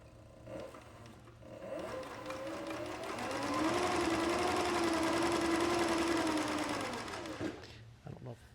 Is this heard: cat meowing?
no